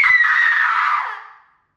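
A single loud, sustained high-pitched scream lasts about a second and a half, then trails off into silence.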